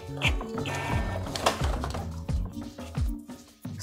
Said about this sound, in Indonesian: jadi printernya ini sudah normal ya dalam melakukan pencetakan ya